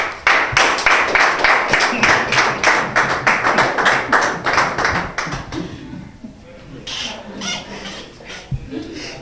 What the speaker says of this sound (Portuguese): aplausos para o Chiata